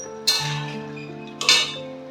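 A pot of fish curry is lifted off a stove with two distinct metallic clanks about a second apart, each followed by a ringing, clinking tail, close and clear, with no voices.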